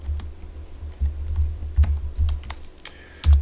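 Typing on a computer keyboard, close and clear, with irregular clusters of soft key presses and a few sharper clacks, no talking.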